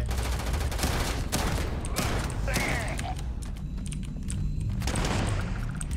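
Rapid automatic gunfire from a weapon in the sci-fi game Starfield, dense bursts of shots running almost continuously under steady background game noise, with a voice speaking over part of it.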